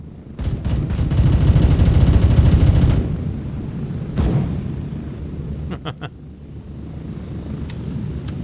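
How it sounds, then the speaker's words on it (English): Unsuppressed gunfire in a video game rattles in a loud rapid burst for a few seconds, followed by a single heavy shot and a few sharper, quieter cracks against background noise. "he's shooting without a silencer"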